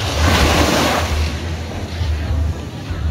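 Sea waves wash continuously onto the shore at Port Barton, a loud, steady surf with rough wind noise buffeting the microphone.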